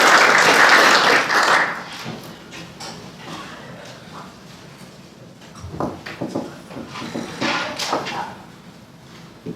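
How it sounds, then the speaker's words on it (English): Audience applause at a business presentation, a loud burst of clapping that fades within a couple of seconds, followed by scattered shuffling and faint room noises. "let's give them a round of applause"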